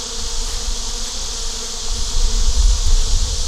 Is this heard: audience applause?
no